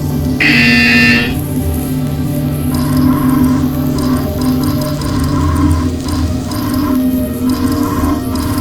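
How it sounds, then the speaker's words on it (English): An electronic buzzer sounds once, loud and about a second long, in the VR game Portal Stories: VR, over a constant mechanical hum and faint clicking background that carries on afterward. "You will hear a buzzer."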